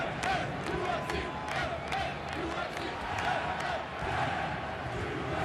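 Home crowd at Minnesota United's stadium opener against NYCFC, a loud, steady roar of spectators with chanting and cheering swells, filling the stadium throughout with no clear gaps.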